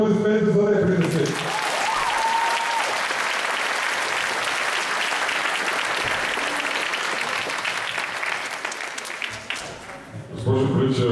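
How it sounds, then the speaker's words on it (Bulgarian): An audience bursts into loud, sustained applause after a call for it, the clapping filling about nine seconds and fading, with a voice speaking just before it starts and again as it dies away. "Тогава, моля ви, бурни аплодисменти,"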